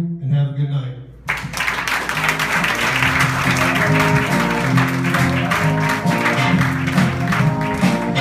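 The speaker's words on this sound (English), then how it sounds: "give a round of applause one more time" A comedy cabaret audience bursts into loud, steady applause for comedian Frankie D, clapping and whoops swelling over lingering music after a brief spoken line.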